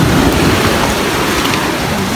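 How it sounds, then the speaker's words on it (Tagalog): Steady, dense hiss of rain falling, close and continuous with a broad wash of noise, no voices. "Ulan na."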